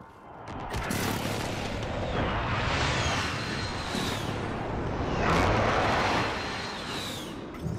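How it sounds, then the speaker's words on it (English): Enemy precision airstrike pounding a video game battlefield, a sustained roar of heavy explosions and rumbling blasts that swells twice, loud and continuous, with no talk. "Enemy precision airstrike! Take cover!"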